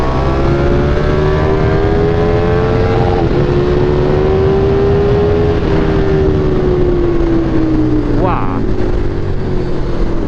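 A KTM 1390 R Evo motorcycle accelerates hard on the road, its engine note rising steadily in pitch over strong, constant wind rush, then dropping briefly between gears near the end.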